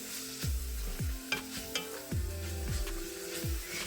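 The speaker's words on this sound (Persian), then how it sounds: "حالا گوشت چرخ کرده رو به پیاز اضافه میکنم و هم میزنم و میذارم تا گوشت چرخ کردم کاملا سرخ بشه" Minced meat frying with onion in a pan, a steady sizzle broken by several scraping strokes of a spoon stirring through it, close and fairly loud with no talking.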